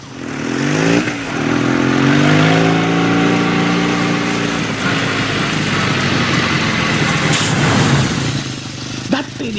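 A motorcycle engine fires up and revs hard, a loud close buzzing whine that rises in pitch, holds through several surges and then drops away near the end.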